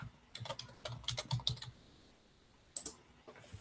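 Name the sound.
typing on a computer keyboard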